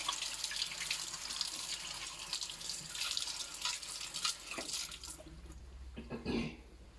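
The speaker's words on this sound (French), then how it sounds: "je me lave les mains" Hands are washed under a running tap, with a steady soft stream of water splashing into a sink and small splashes from the hands moving in it, all fairly quiet and close.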